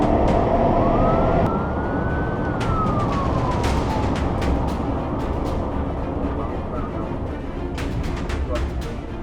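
A police car siren wails during a high-speed pursuit, one rising and falling sweep sounding fairly distant over constant road rumble and scattered clicks.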